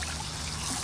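Water pours and trickles steadily as fish from black tar water are rinsed off, with a short, continuous splashing hiss up close and no talk.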